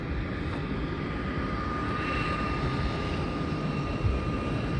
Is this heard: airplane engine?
yes